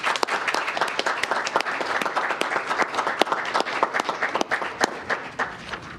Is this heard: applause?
yes